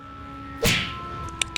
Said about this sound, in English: Yeah, a little bit of a whip.